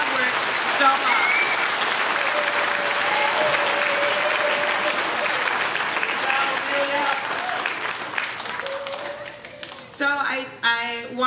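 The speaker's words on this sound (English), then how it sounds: "I think you should give them one more huge round of applause" An audience at a middle school choir concert applauds at length, dense steady clapping that fades toward the end, with a voice speaking faintly beneath and a brief burst of speech near the close.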